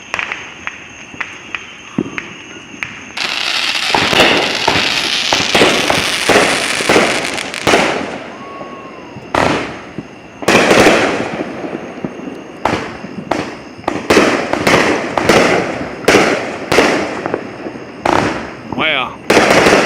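Many fireworks are set off by numerous people at once rather than in a staged show, giving a dense barrage of sharp cracking bangs and crackling bursts, some near and loud, with brief gaps between volleys.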